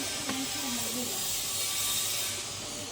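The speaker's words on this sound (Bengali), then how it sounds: "জিরে আর তেজপাতা ফোড়ন দিয়ে দিলাম।" Cumin seeds and a bay leaf hit hot oil in a pan, a steady broadband sizzle and hiss holding evenly throughout, close up, with a voice briefly heard over it.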